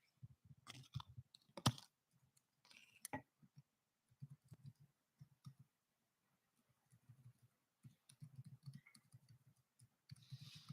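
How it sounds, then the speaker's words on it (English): Light clicking keystrokes on a computer keyboard come in short bursts with pauses, fairly faint and close, in a quiet room. "So I'm going to type something in here."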